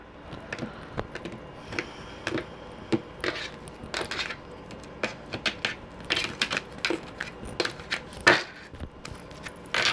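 A tarot card deck being cut and shuffled by hand, giving a run of quick, close papery snaps and riffles in irregular bursts, with no voices over it.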